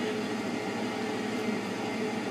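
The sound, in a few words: boiler exhaust draft blower turning on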